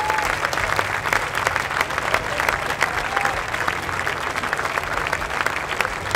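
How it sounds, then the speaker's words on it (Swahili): Sustained applause from an audience at a Swahili-language Christian meeting: dense, steady clapping that holds at an even level for the whole stretch, without a break. "Na tunampa mheshimiwa makofi kwa hilo"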